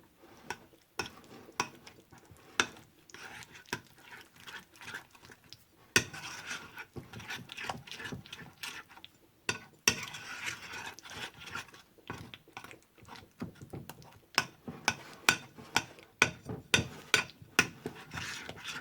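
A spoon stirs homemade Taco Bell-style quesadilla sauce in a bowl, making a long run of close, irregular clicking scrapes and taps that quicken toward the end, with no talking.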